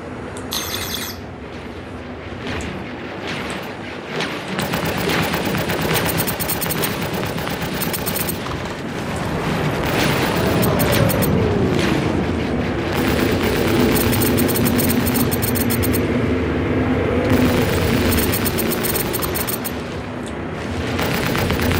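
Space combat video game battle with repeated missile impacts and explosions, a dense continuous barrage of bursts and crackling blasts over a loud rumbling bed, with a sweeping tonal whine in the middle.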